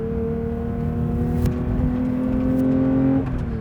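Porsche 992 GT3 engine with a lightweight flywheel revving steadily from inside the car, a loud continuous high-pitched drone holding for several seconds, rising slightly before easing off near the end.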